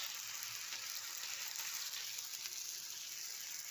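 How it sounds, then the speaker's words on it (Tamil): Wheat-flour coconut poli frying in ghee on a pan, a soft continuous sizzle with a faint hiss, low and even, heard alone without talk. "வெந்துருது நல்லா, அப்படியே திருப்பி போட்டுக்க வேண்டியதான்."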